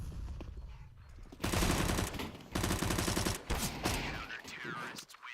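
Rapid automatic gunfire in a competitive first-person shooter match, loud bursts in two or three sustained volleys separated by short pauses, with faint game sounds between them.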